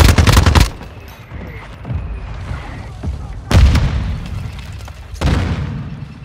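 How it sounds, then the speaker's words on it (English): Mortar strikes from a Modern Warfare team deathmatch round slam down as three heavy, booming blasts, each one sharp and loud, leaving a rumbling tail that dies away before the next impact. "Hostile mortar strike in the area."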